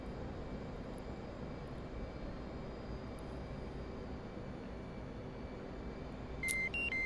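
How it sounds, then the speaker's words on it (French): Low fuel warning beeps sound in an F/A-18 cockpit in the DCS World flight game: a steady aircraft engine drone plays throughout, and a short burst of electronic beeps comes in near the end. "Les bip bip c'est pour me dire que j'ai plus de fuel"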